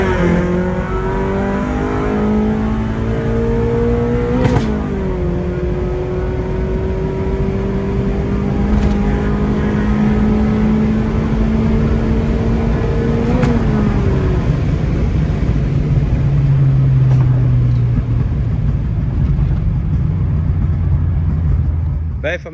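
Car fitted with a homemade air box, HKS filter and 76 mm intake piping accelerates hard with a slipping clutch, its loud engine note climbing steadily in pitch through long pulls with brief drops between gears.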